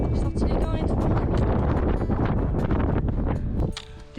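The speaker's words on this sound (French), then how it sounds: "Il y a du vent." Strong, steady wind buffets the microphone on a cold mountain trail near a lake, a loud, unbroken roar that eases briefly at the end.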